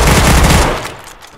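Gunfire in the video game DayZ comes as a loud, close burst of rapid shots that blur into one dense blast, then decays over about half a second.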